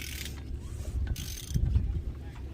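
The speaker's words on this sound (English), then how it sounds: "We're gonna spin the motor, aren't we?" A Ford 6.0 Powerstroke diesel engine swapped into an F150 is turned over by hand or starter: a steady mechanical whirring and ratcheting churn of gears and pulleys with low rumbling, swelling briefly louder toward the end.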